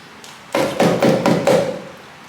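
A lime rubbed against a zester makes four quick, loud rasping scrapes in an even rhythm, close up and with no talk.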